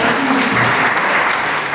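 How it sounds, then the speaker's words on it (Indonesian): A church congregation at a Sunday service gives a short burst of dense, loud applause filling the whole moment. "Tepuk tangan buat kita."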